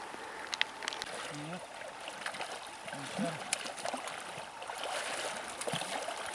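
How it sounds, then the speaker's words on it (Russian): Rain falls steadily beside a river in the taiga, a soft continuous hiss with trickling water and faint voices murmuring in the background. "Снова дождь, ребята. Снова дождь."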